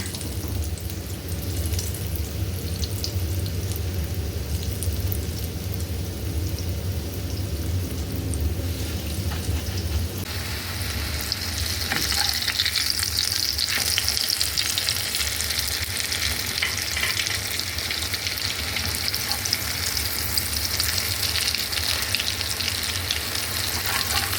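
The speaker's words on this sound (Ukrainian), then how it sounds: "Жаримо до такого золотавого кольору, до гарного." Food frying in a pan until golden gives a steady, loud sizzle and crackle that runs the whole time, turning brighter and more spitting partway through, with no talking.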